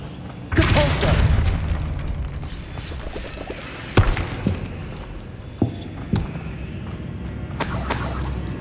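A spell cast in Hogwarts Legacy sets off a heavy magical whoosh and boom, followed by a few sharper impact thuds and cracks amid ambient game sound.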